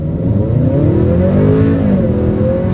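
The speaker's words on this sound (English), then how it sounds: "Let's put the acceleration here to the test with the TLX having full control, and let's see how quickly we can get this one here up to speed" A 2024 Acura TLX in sport driving mode accelerates hard from the cabin, its engine note rising and climbing steadily in pitch through the gears, loud and continuous with no talking.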